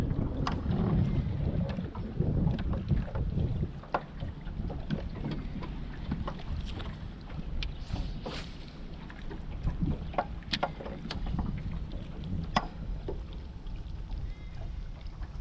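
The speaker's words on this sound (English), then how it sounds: "Boy, the wind is really blowing" Wind blows across Lake Lanier while fishing from a boat, a constant rough rumble of microphone buffeting with water slapping against the hull and occasional light knocks, close and fairly loud, with no speech.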